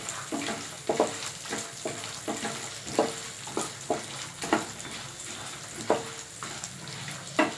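Black gram sizzles and crackles in a hot pan while a spoon stirs it, giving regular scraping strokes about once a second over a steady frying hiss, close and moderately quiet.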